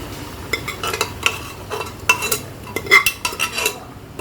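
A spoon scrapes and stirs through thick cooked breadfruit with its water in a pot, with irregular clinks and sloshing strokes against the metal, close up.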